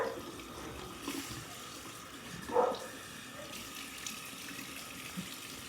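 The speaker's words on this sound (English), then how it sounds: "Okay, so I just wet my face." A bathroom sink tap runs water for wetting the face, a faint, steady trickle with a brief louder splash partway through.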